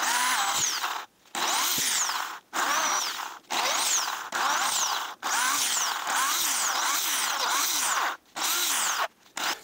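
A power drill bores into a rounded metal piece for a GY6 scooter central arm engine holder, whining in loud, close bursts of about a second each, broken by brief pauses.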